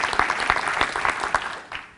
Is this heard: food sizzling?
no